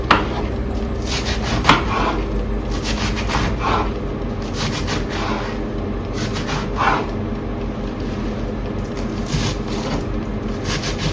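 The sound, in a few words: chopping lettuce into small pieces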